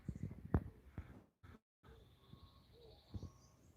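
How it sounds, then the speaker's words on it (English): Faint birdsong and soft cooing drift in from outdoors among the sounds of nature, with scattered chirps, gaps of near silence and a few low thumps close by. "listening to the birds and the bees in the distance."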